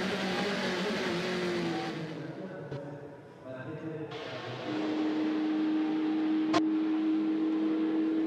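Toyota prototype race cars at the Le Mans 24 Hours, engines whining and revving past at speed, fading briefly before another car's steady high drone takes over, with broadcast commentary audible underneath.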